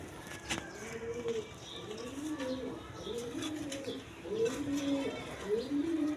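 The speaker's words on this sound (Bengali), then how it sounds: "এক পেয়ার হলুদ কালার আপনার রাজগোল্লা কবুতর দেখেন, কোয়ালিটি সম্পন্ন কবুতর" A pair of yellow Rajgolla pigeons coo nearby in a series of soft, repeated rolling coos, rising and falling in a steady rhythm over a low background hum.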